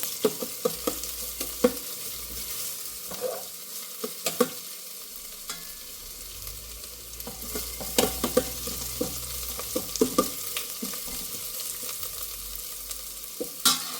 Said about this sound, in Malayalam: ഉള്ളി ഒന്ന് നന്നായി വഴന്ന് വരട്ടെ